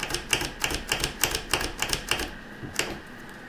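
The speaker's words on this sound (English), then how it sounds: "it's like a little knife that actually cuts the paper into uniform strips" Paper being cut into fringed strips for quilling by a small hand fringing tool: a quick run of sharp, evenly spaced clicks, close up, slowing to a last few snaps near the end, with no voices.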